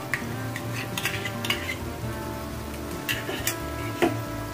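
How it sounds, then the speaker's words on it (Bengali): Makhana (lotus seed) gravy with curd and cashew paste is stirred and fried in a pan, giving scraping spoon strokes and light clinks over a low steady sizzle, close, with no talking. "এটাকে খুব ভালো করে আবার কষিয়ে নেব।"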